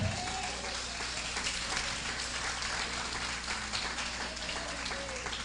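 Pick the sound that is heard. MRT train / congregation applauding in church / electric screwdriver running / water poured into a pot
congregation applauding in church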